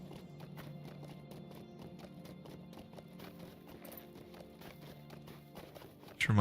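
Steady rhythmic clip-clop of horse hooves from the Lord of the Rings Online game, a continuous riding gait under low ambient game music, ending in a sudden loud burst.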